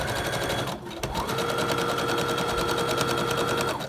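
A sewing machine runs steadily in zigzag stitch while sewing a medical mask, a continuous loud mechanical whir with a brief pause near the start, alone without talk.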